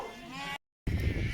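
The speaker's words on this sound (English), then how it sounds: "We're just starting to get the sheep in." Sheep bleating on a farm as the flock is gathered on a Saturday morning, with repeated wavering bleats close by, broken by a short silence and then a louder burst of mixed animal noise.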